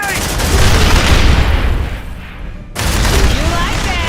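Grenade blast and heavy gunfire in an Aliens: Dark Descent cutscene: a loud, dense roar of shots and rumbling booms that briefly drops away near the end, then surges back.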